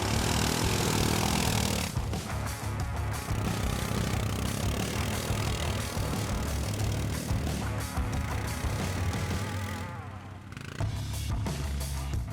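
Loncin X-Wolf ATV engine labouring loud and close as the quad climbs a small ice-covered step toward a hill, its steady mid-range drone swelling and dipping for about ten seconds before easing off near the end.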